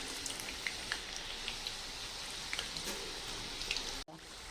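Butter chakli frying in hot oil in a home kitchen, a steady close sizzle with fine crackling pops throughout, briefly cut off near the end.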